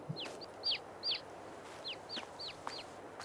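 Chickens in Farming Simulator 22 clucking in a series of short, sharp calls at an irregular rhythm, fairly close, over a soft steady background hum with no talk.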